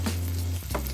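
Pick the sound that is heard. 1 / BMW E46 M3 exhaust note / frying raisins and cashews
frying raisins and cashews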